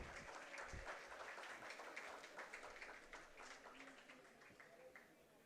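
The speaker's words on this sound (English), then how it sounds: "A round of applause for all the winners." An audience at an IEEE Delhi Section inaugural event applauds the winners, a faint, even patter of many hands that stays quiet and gradually tapers off.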